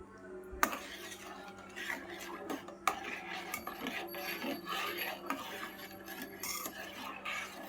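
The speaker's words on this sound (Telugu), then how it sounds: "ఇలా తిప్పుతూ ఉండాలి, ఎందుకంటే అడుగంటకుండా ఉంటుంది" Metal spoon scraping and stirring sugar syrup in a pan while making bread halwa, with repeated clinks and rasping strokes at close range, fairly quiet and steady.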